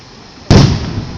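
Cat-shaped fireworks burst over the wave pool at Seibuen amusement park in 2013: a single sharp, loud boom hits midway, then a rumbling crackle trails off with no one speaking.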